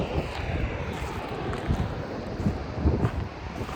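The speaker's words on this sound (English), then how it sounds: "Another waterfall I wasn't expecting." A huge waterfall in Iceland, reached by a dirt road off the main route, pours in a steady, dense roar mixed with gusting wind buffeting the microphone.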